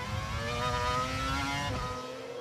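Formula 1 car engine heard onboard with the race leader at the 2000 European Grand Prix: a loud, steady high-pitched scream with dense harmonics, holding close and constant with no voices.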